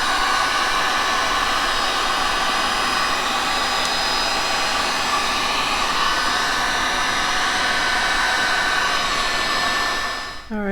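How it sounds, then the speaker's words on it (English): A heat gun blows steadily and loudly to blend colored resin layers in an underwater turtle resin piece, a continuous airy roar that holds throughout and cuts off abruptly at the end. "I'm going to take my heat gun and blend them together."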